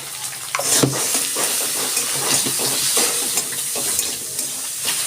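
Small shrimp frying in a pan with onion, garlic and turmeric, giving a steady close sizzle with scattered stirring scrapes and spatula clicks running the whole time, no talking.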